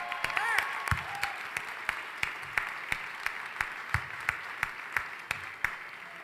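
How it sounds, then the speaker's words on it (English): A roast audience applauds in a hall, with steady, fairly loud clapping from many hands and a few sharper individual claps standing out, holding at an even level throughout. "let's give him a round of applause right now."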